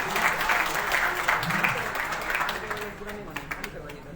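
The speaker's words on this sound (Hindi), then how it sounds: "कर्मठ ईमानदार IPS श्री विकास बैगो जी का एक बार जोरदार तालियों से आपको स्वागत करिए।" A summit audience applauds to welcome a guest on stage, steady crowd clapping that fades out over a few seconds as a voice speaks over the end.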